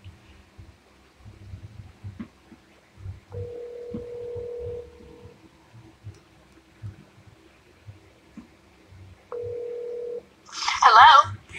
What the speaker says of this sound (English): Let's get her on the phone right now.